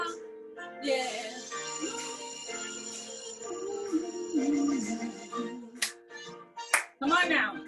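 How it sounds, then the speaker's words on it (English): Audience clapping along to a song at a cultural festival expo, rhythmic hand claps mixed under a singing voice and music, with cheers and shouts rising toward the end. "I want to see some hand clapping"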